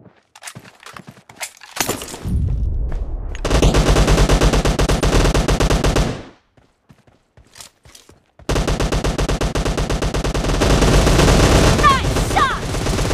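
Automatic gunfire in the battle royale game PUBG, with two long loud sustained bursts of rapid shots split by a short gap with scattered single cracks and light footsteps.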